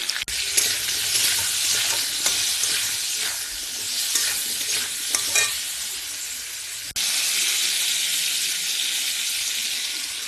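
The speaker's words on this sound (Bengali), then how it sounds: "একে একে এখন আলুগুলা ছেড়ে দিলাম। দিয়ে দিলাম হলুদ, দিয়ে দিলাম লবণ। এবার ভাজতে থাকবো।" Potatoes frying with turmeric and salt, a loud, steady hissing sizzle with brief scraping stirs in the first half, then an unbroken sizzle.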